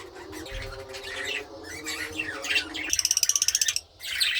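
Small parrots chirp and chatter in quick bursts, ending in a rapid run of sharp, evenly spaced calls.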